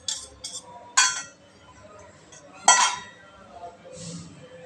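A spoon stirs halwa continuously in a pan, giving a few sparse bright metallic clinks and soft scrapes close by, with quiet gaps between strokes.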